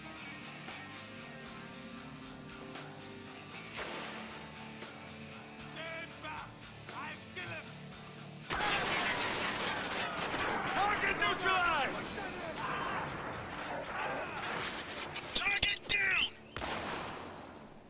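AK-47 gunfire in Spec Ops The Line: after a quiet stretch with a voice, rapid bursts of rifle fire and chaotic battle noise erupt, loud and dense, with shouting voices mixed in.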